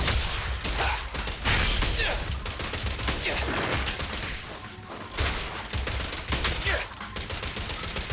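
Rapid gunfire from Zenless Zone Zero, a loud, dense stream of overlapping shots and bursts running almost without pause, with brief dips between volleys.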